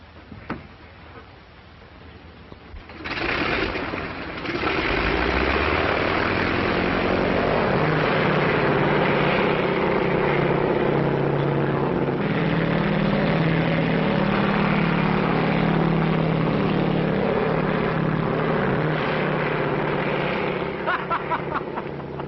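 A 1937 aircraft propeller engine idles before takeoff. It kicks in after a few seconds and becomes a loud, steady, droning rumble that continues at an even level, heard close up on an old, muffled recording.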